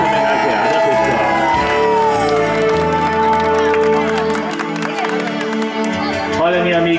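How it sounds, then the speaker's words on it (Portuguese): A crowd at a birthday party claps and cheers loudly, with shouts and whoops over sustained applause and a voice or music tone running underneath. "Uma salva de palmas para nossa homenageada, pessoal."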